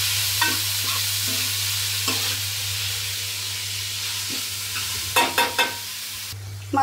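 Onion pieces frying in a pot for a chicken curry with raw cashews, a steady soft sizzle with a low hum beneath, broken by a few scraping stirs and a quick cluster of clinks near the end.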